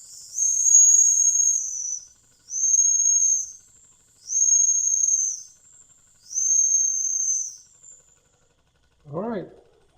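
Weeden No. 2 brass toy steam engine whistle, four sustained high shrill blasts with short gaps between them, followed by a brief low voice once the whistling stops.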